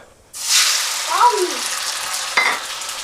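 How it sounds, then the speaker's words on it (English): Shrimp dropped into a preheated oiled wok bursts into a sudden loud sizzle that continues steadily up close, with a brief scrape of a utensil partway through. "Now the wok is nice and preheated. We're going to add the shrimp."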